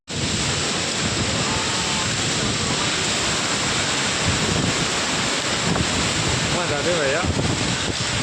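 Wind from a sudden rainstorm roars in a loud, unbroken rush, buffeting the microphone heavily for the whole stretch, while a voice speaks briefly partway through.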